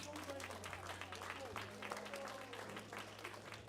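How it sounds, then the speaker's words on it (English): Audience applause fills a robotics championship venue for a top-seeded team, steady broadband clapping under a faint hum, with no clear voices. "Round of applause for our first seed"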